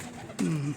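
A racing pigeon gives one short throaty coo, close and clear after a brief quiet stretch with faint background noise.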